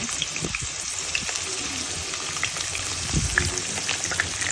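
Onions for birista fry in oil in a pot on the stove, a steady close sizzle with bubbling and a few soft stirring knocks throughout.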